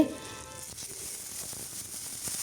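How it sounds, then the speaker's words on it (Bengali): Spiced food fries in a hot pan, turning light golden brown, with a steady crackling sizzle running the whole time at moderate level and a brief louder clatter at the start. "একটু হালকা গোল্ডেন ব্রাউন করে ভেজে নিচ্ছি"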